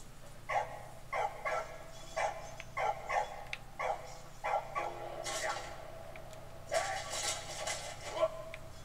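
A dog in the Valiant Hearts game barks in a rhythmic series of short, sharp yaps, about a dozen spaced barks with a brief pause midway, fairly close and clear over a quiet background hum.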